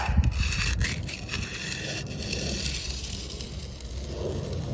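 Wet concrete for a pool deck slab is worked back and forth with a float, giving a continuous close gritty rubbing and scraping with a few sharp scuffs early on.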